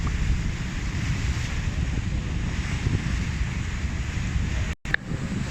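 Steady broadband surf and wind roar from open sea off Norway, continuous and loud with a gusty rumble, a brief dropout near the end, no voices.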